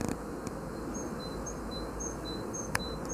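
Honeybees buzzing around beehive number 16, a faint steady hum with occasional passing bees and a soft click, no voices.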